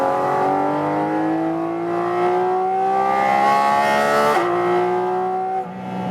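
A 2022 Porsche 718 Cayman GT4 RS drives hard on a Portuguese racetrack, its engine loud and close, revving steadily upward through a gear, with a quick shift and a brief dip before it pulls again.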